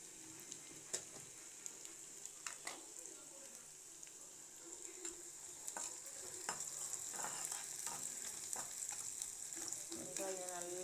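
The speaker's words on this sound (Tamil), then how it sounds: "இப்போ நல்லா நம்ம வெங்காயம் வதங்கணும். நல்லா ப்ரௌன் ஆகணும்." Onion sautés in a pan for an egg and capsicum gravy, a soft continuous sizzle broken by frequent clicking and scraping stirs. Faint voices murmur in the background.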